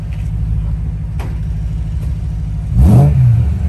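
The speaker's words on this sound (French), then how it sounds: "Et la ligne Rémus, vas-y mets un petit coup de gaz, regarde." A Mercedes C63 revs briefly through a Remus exhaust, a low steady idle rumble swelling into a loud, rising throttle blip near the end, heard up close with no talking.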